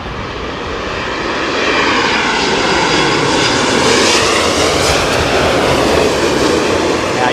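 Emirates Airbus A380 airliner landing at Heathrow in a southwesterly storm wind, its engines roaring loud and steady, swelling slightly as it passes close overhead.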